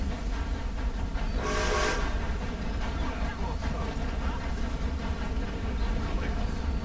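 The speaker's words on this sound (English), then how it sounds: "I'm going to try not to get hit by this train." Train passing in the video game Red Dead Online, a steady rumbling rail roar with a short whistle-like burst early on, loud and continuous with no talk.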